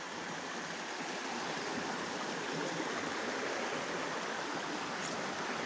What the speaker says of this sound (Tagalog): Yan ang sapa ko dito.